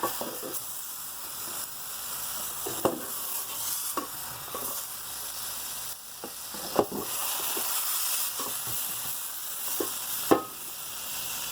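Tomatoes and garlic cook in a pan on the stove for roasted salsa, a steady close sizzle broken by sharp clacks and scrapes of turning and stirring every few seconds.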